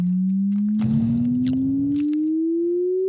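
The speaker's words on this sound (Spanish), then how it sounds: "Vamos al tonal, donde tenemos ya este cambio de pitch." A steady synthesized riser tone made in Ableton Live glides slowly upward in pitch, with a brief noisy burst of texture layered over it partway through.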